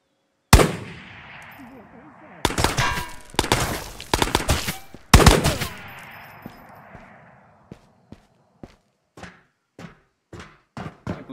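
Gunfire in the video game Ghosts of Tabor: a few loud, close single shots, then several dense bursts of rapid automatic fire, followed by a series of sharper, fainter spaced shots trailing off.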